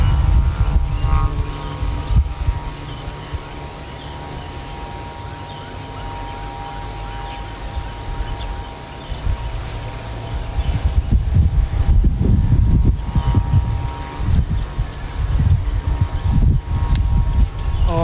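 Strong wind roars steadily while a taut kite line whistles with faint sustained tones, the gusts swelling louder in the second half, with no talking.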